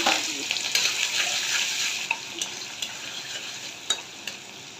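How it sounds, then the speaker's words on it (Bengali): Oil sizzles steadily as chopped onions fry in a pan, with occasional soft clicks and scrapes from stirring, close and fairly loud. "পেঁয়াজটা একটু হালকা ভেজে দিলাম"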